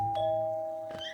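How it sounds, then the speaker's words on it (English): A doorbell chimes twice, each a clear ding-dong tone ringing out and slowly fading in a quiet indoor room. "the doorbell rang."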